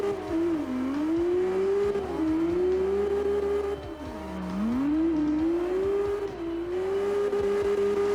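A Nissan R34 drift car slides around the pit area, its engine screaming loudly and steadily with rising and falling revs as it holds a long drift, a near, continuous roar with no voices.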